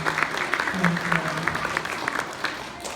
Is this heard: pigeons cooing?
no